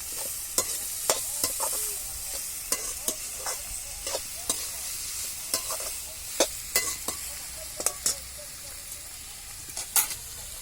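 Spices, garlic, ginger and tomato fry in a pan for Vidarbha-style gobi bhaji while a spoon scrapes and clinks in an uneven rhythm. A soft steady sizzle runs underneath the repeated close stirring strokes.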